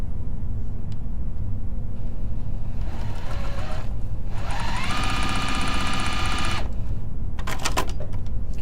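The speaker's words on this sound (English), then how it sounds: "hopefully I sew down the right sides" Sewing machine stitching quilt block pieces, running in two bursts of steady mechanical whirring over a constant low background hum, with brief ticking clicks at the end.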